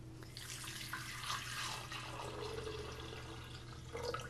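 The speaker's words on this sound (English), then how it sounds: "let's add in the 2 cups of vegetable broth" Vegetable broth poured into a pot for broccoli soup, a continuous soft gurgling, splashing liquid stream, close and fairly quiet, with no talking.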